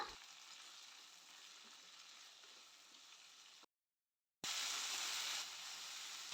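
Chopped onion and tomato sautéing in a pan, a faint steady sizzle with light stirring, cut by a brief silent gap, then resuming slightly louder, no talk.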